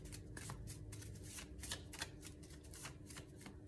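Oracle advice cards being shuffled by hand: quick rhythmic riffling bursts, close and fairly quiet, repeating in a steady patter throughout with no talking.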